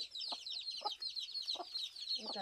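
Chickens cluck softly and steadily in a rural farmyard, a faint continuous chatter of fowl with several short clucks standing out.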